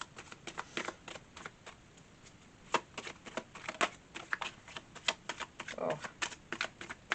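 Tarot cards being shuffled by hand, a quick series of crisp riffling snaps and flicks at close range, irregular in rhythm and fairly quiet.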